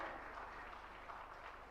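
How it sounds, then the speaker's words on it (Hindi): Audience applause at a Jain religious gathering, a steady, fairly faint patter of many hands clapping throughout the short stretch with no voices on top. "जरा जोरदार तालियों के साथ अनुमोदना करें।"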